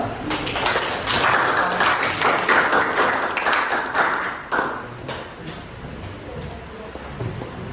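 Classroom applause for a student group after their presentation, a dense patter of hand claps from several students that is loudest early and thins out toward the end.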